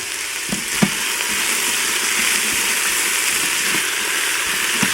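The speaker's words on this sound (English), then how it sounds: "So now we are just going to saute this vegetable for about a minute" Salted vegetables sauté in an Instant Pot with a loud, steady sizzle throughout, broken by a few soft knocks from stirring.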